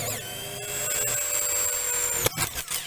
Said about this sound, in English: if I just quickly drill out the single rivet on it, it's pretty easy to take apart